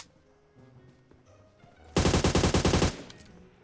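In a battle royale game, a quiet stretch of background sound gives way to a loud, rapid burst of automatic gunfire lasting about a second, each shot cracking sharply in quick succession before cutting off.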